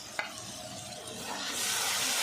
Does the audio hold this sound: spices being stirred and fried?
yes